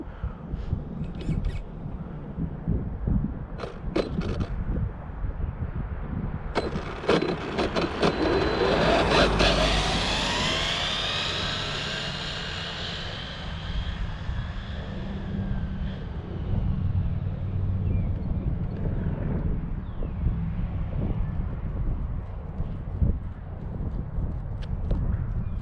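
An XTM XT2E electric RC car on 6S running a quick low-speed pass, its whine rising and sweeping as it approaches and then fading away, set against steady outdoor background noise and scattered handling clicks.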